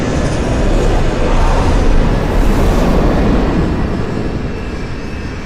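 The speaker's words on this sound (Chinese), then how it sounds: "这不是咱们陆航的飞机吗？" A cargo airplane lands into a headwind at an airport, its engine and wind roar filling the scene as a loud, steady, broadband rush that fades slightly toward the end.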